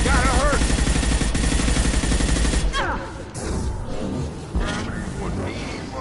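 Heavy gunfire in the Mass Effect 2 video game, dense sustained rattling shots that fade after a few seconds, with voices speaking over the combat.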